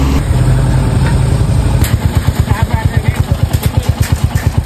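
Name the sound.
motorcycle engine running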